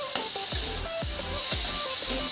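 Cumin powder frying in a pan over a medium gas flame, giving a bright continuous sizzle and hiss, with a few soft stirring knocks every half second or so.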